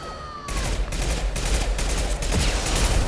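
Gunfire in Mass Effect 2 Legendary Edition on PS5, a dense continuous fusillade of rapid shots and impacts filling the whole span, loud and close after a brief whine at the start.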